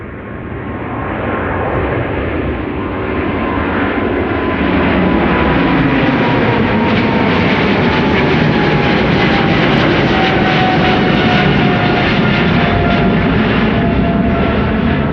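An airliner departs Amsterdam Schiphol Airport on a sunny day, heard from a grass field near the start of the runway: a loud jet roar swells and holds as a broad, sustained rumble, with no voices.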